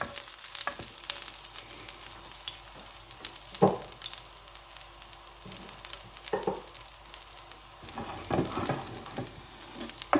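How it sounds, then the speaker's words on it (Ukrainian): Garlic fries in vegetable oil in a pan, a steady close sizzle and crackle throughout, broken by a few soft clicks and scrapes of stirring. "зараз я сюди його на цій олійці трошки його тут підсмажу, цей часничок"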